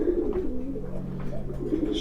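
A racing pigeon coos softly in a loft during breeding season, a low, steady murmur close by under ambient noise.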